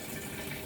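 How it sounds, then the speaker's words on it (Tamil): Water gushing into a washing machine drum, a steady, even rushing wash of sound with no breaks, moderately faint and continuous throughout. "இப்போ தண்ணி பார்த்தீங்க அப்படின்னா பாதிக்கு மேலே ஃபில் ஆகிடுச்சு."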